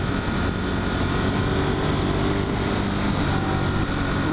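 A Ducati Monster 1200 motorcycle engine drones loudly and steadily while riding at speed, a dense, close mechanical roar with wind noise and no talking.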